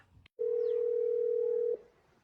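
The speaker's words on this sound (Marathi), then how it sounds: "कॅम्प्युटरवाले झाकण झुल्याच्या काकाले फोन लावा." A telephone call tone in a cartoon comedy sounds as one flat, steady beep lasting just over a second, clear and close, after a brief click and before near-silence.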